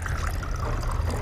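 A gin and cherry Moscato cocktail with a splash of cranberry juice is poured in a short, steady stream of liquid, close and moderately loud.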